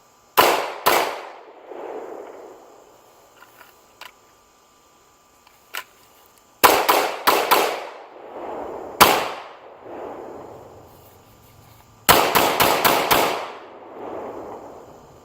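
Pistol fitted with a Trijicon RMR red-dot sight fired at a range: sharp, loud cracks in quick strings of two, four and five shots, each with a short ringing decay, separated by quiet pauses and a couple of faint clicks.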